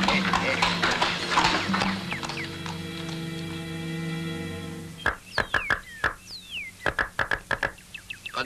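A horse clip-clops near and loud in a steady run of hoof knocks, coming after a stretch of tonal music, with people arriving alongside it.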